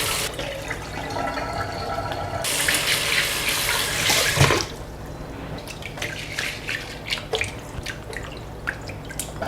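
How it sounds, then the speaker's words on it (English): Rice is washed and rinsed in running water: a steady rush of tap water into a bowl, then a sudden stop followed by scattered drips and light splashing, close and clear with no talk. "wash the rice maybe like 30 seconds or so, and then rinse 5 times"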